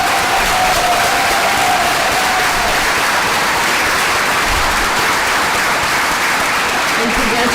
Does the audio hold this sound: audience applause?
yes